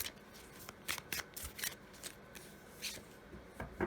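Tarot cards shuffled and drawn at a quiet reading table, soft riffling and crisp card snaps in irregular bursts, close and faint, with no talk.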